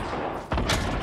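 Gunfire in the Fortnite battle royale video game: a loud burst of shots cracks in midway through the second after a quieter stretch, dense and close over the game's background sound.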